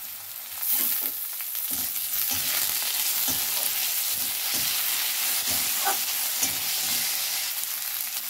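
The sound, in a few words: garlic and chopped tomato frying in pan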